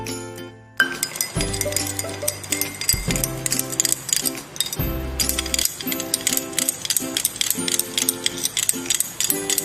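A stirring rod clinks rapidly and steadily against glassware as 10 grams of solid sodium hydroxide dissolves in distilled water. The tinkling strikes ring close and fairly loud, with no talking.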